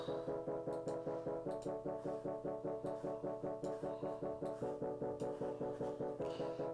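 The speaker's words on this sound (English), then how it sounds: "So it's the" A bassoon plays a rapid, even run of short detached staccato notes, repeating steadily in a tight rhythm at a moderate, slightly distant level with no voices.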